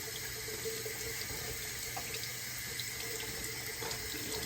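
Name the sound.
rinsing giant pumpkin seeds under running tap water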